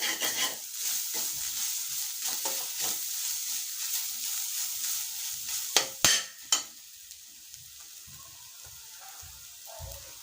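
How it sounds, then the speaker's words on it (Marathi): Grated coconut stirred and fried in ghee in a pan, a soft continuous sizzle with scraping spoon strokes and a few sharper knocks against the pan. "यामध्ये आपण आणखीन दोन चमचे तूप घालणार आहोत आणि हा नारळाचा किस व्यवस्थित परतून घेणार आहोत"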